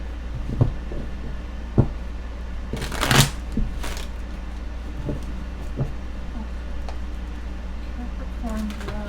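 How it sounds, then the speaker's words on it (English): A deck of tarot cards being shuffled, a burst of quick riffling flutter in the middle flanked by a few soft taps and card handling noises, with a low steady hum underneath. "one more shuffle"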